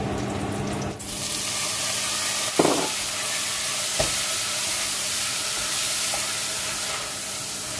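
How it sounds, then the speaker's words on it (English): Prawns dropped into a simmering Bangladeshi tomato tenga curry give a steady, loud sizzling hiss throughout, with a brief clatter partway through and a few soft knocks. "I'm going to put my prawns in."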